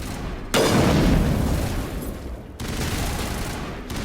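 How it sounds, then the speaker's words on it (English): Heavy crossfire in the video game Mass Effect: dense booming gunfire and blasts come in loud bursts, with a sharp onset and sudden cuts between volleys. "Manovai is under coordinated crossfire"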